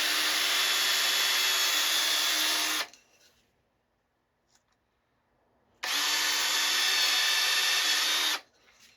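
A power drill drives into solid poplar wood, whirring steadily for a few seconds, stopping for a short quiet gap, then running again for another few seconds, close and loud.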